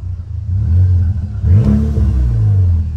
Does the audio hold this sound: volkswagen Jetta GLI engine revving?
yes